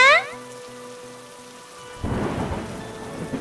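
A cartoon rain effect starts after a short run of chiming tones: a steady, close wash of falling rain with soft rumbling underneath that keeps going to the end.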